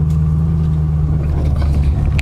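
Loud, steady engine rumble from a 2008 Ford Shelby GT500 Cobra Super Snake with a 5.4L V8 and manual gearbox on the road, a continuous deep drone with light road and wind noise and no talk.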